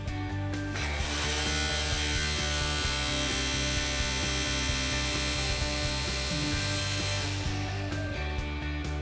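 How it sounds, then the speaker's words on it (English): Greenworks Pro cordless bike-handle string trimmer running steadily with a high electric whine and layered motor hum, a brief pitch dip near six seconds, then winding down near the end. "While the trimmer is running, bump the trimmer head against the ground."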